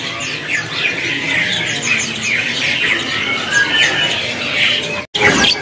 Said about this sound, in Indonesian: Untuk pantauannya dari jalak putih.